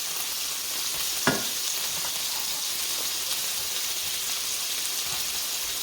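Salisbury steak patties fry in a pan with a steady, close sizzling hiss that runs throughout, broken by one brief utensil tap.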